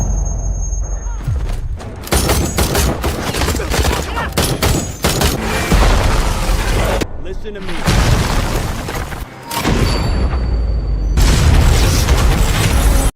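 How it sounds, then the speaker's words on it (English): Missile strike explosion and gunfire against a militia target: loud sustained booms and bursts of firing fill the scene almost continuously, with brief gaps, and a voice speaks over the noise. "Reaper fired the Hellfire missile, hitting the target directly and eliminating Hashimi and most of his militia."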